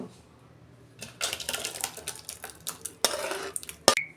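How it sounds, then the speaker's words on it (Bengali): Cooked dal, made fairly thick, is poured out of a pot, with clinks and scrapes of utensil against metal coming in bursts, then a sharp knock near the end. "ডাল আমার হয়ে গেছে, আমি এবার ঢেলে ফেলছি"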